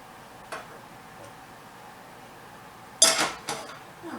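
A fork knocks and scrapes against a metal pan while the pan is being coated for baked Italian sausage with carrots and potatoes. A few sharp clinks stand out against a quiet background, with one early tap and a cluster of scrapes near the end.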